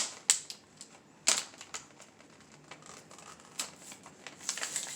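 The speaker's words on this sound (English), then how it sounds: "It's hard to get this plastic off." Stiff plastic packaging being pulled off a Christmas mantel decoration makes close, scattered crackles and sharp snaps, with a busier cluster of crinkling at the end.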